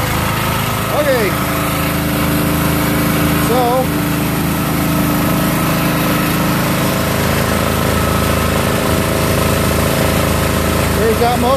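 A small gas engine drives a homemade hydraulic power pack, running steadily and loudly close by for the whole stretch, with a droning hum that barely changes in pitch.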